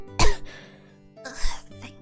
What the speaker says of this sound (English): I doubled forward into a coughing fit that broke my tears to my eyes